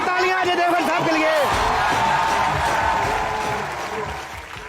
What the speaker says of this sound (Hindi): जोरदार तालियां अजय देवगन साहब के लिए